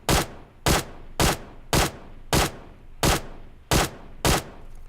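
Eight single shots from a QBZ assault rifle in PUBG Mobile, loud and sharp, fired at an even pace about two-thirds of a second apart, each followed by a short decaying tail.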